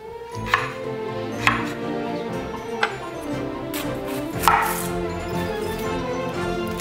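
A knife chops shallots and onion on a cutting board while ingredients are prepared for a spicy chicken pot. Four or five distinct, irregular chops cut through a steady background hum, with no talk.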